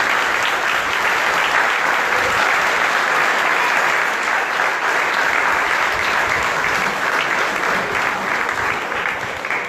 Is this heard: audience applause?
yes